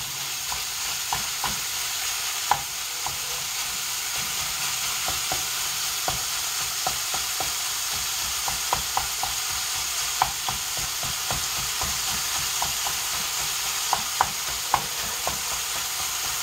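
Ground beef browns in a pan with a constant sizzle, punctuated by scattered scraping clicks as a utensil breaks up and flips the meat, no voices heard.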